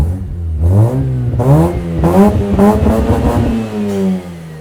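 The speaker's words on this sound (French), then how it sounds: "le bip, c'est quand t'arrives au rupteur" A Mazda RX-8 rotary engine revs hard and climbs repeatedly in pitch, loud and close, with rising whines bouncing off the limiter and its warning beep before easing back.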